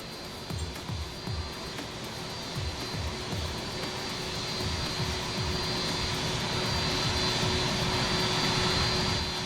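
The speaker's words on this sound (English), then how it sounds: "Yes, plane, go away." Aircraft engine drone from an airplane in the airport management game Airport CEO, a steady jet roar that swells gradually louder over several seconds with a faint rhythmic pulsing underneath.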